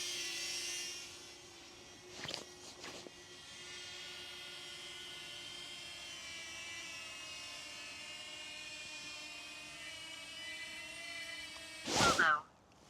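A DJI Flip drone hovers nearby with a thin, steady propeller whine, broken by a few short bursts of louder handling noise near the start and the end.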